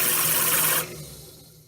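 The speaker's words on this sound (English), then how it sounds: "Sometimes this edge of the glaze is kind of sharp, so I will often," A rotary grinding disc works down the sharp glaze edge on a ceramic piece, a harsh close-up rasping whir that stops abruptly partway through and then fades into quiet.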